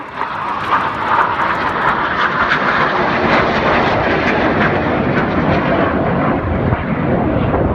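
Red Arrows synchro pair jets crossing at high speed during an air festival display, a loud continuous roaring jet engine rush that swells and holds throughout, with no voices.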